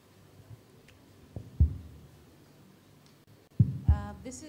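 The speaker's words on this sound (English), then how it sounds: "Let's put a hold on the heartbeat for a second." A low, thumping heartbeat effect plays at a live competition finale, with soft paired thuds that grow louder and heavier, separated by quiet gaps.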